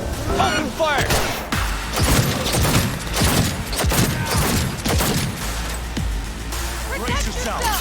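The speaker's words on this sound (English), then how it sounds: "Open fire!" Gunfire in the video game Cyberpunk 2077, dense bursts and rattling shots running throughout alongside music and game effects, with voices talking over the fighting.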